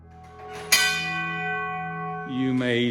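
A gong on a horse-drawn fire wagon struck once, giving a sharp metallic hit that rings on with a long, sustained tone, and a second strike near the end, close and loud.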